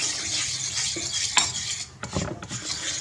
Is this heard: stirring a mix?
yes